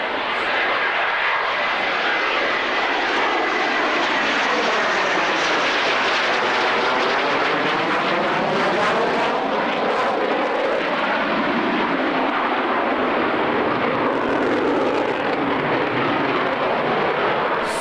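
A military jet with swing wings fully forward and landing gear down makes a slow low pass at the 1993 Coningsby airshow, a loud continuous engine roar that swells and sweeps in pitch as it passes, with no talk.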